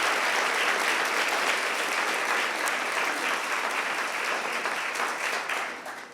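Loud, close applause from the audience at a student teacher recognition reception, a thick continuous clatter of many hands that stays level and then tapers off in the final second.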